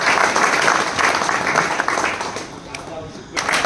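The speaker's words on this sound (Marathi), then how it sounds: "सगळ्यांनी एकदा टाळ्या वाजवून लॉन्चचा हे घ्यायचं" An audience claps at a launch of a pesticide for thrips in grape vineyards. The applause is dense and loud, then thins and fades toward the end, with some voices mixed in.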